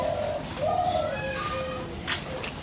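A spotted dove coos in a village on a quiet morning, giving several drawn-out tonal calls at moderate distance against faint outdoor background noise, with no one talking.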